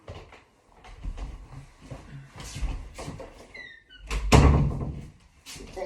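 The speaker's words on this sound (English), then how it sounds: "And close the door, maybe." An indoor door is pushed shut with a short squeak followed by a solid thunk, up close amid some shuffling and movement.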